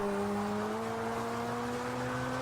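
A sports car engine in Grand Theft Auto V hums at a steady, sustained pitch, a smooth synthetic-sounding drone that stays loud throughout.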